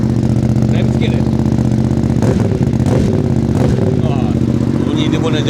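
A loud motorcycle engine idles close by with a throbbing, uneven rumble, occasionally blipping, while someone talks over it.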